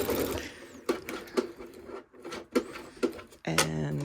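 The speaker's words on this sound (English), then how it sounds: "we're just going to sew that down, and we're not going to sew over our pins" A sewing machine stitches a quilt block cushion cover in short bursts, its motor whirring in repeated runs with brief stops between, close and fairly loud.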